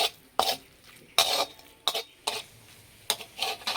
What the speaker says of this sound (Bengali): এবার এই শাকের মধ্যে ঢেলে দেব। ভালো করে মিশিয়ে নেব।